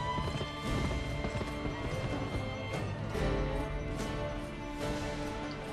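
Horse hooves clip-clop steadily at a gallop in the Western video game Gun, with an occasional whinny over a dense, continuous game soundscape and no speech.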